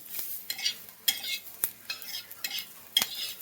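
Garlic and coriander roast in a pan, a spoon scraping and stirring in quick, uneven strokes over a faint sizzle, up close.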